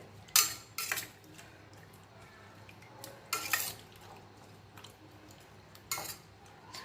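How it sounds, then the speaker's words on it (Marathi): A spoon stirs green tomatoes with coriander, turmeric, salt and water in a cooking pot, giving a few distinct scraping clinks in separate bursts against a quiet background, no voices. "आता हे मिक्स करून घ्यायचे"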